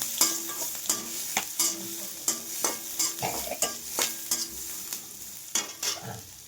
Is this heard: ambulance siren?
no